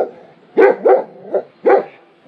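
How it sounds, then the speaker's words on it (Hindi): Large, heavy dogs in a village in Serbia bark four times in an uneven rhythm, fairly close and loud, with quiet surroundings between the barks. "सब मेरे को देख के भौंक रहे हैं।"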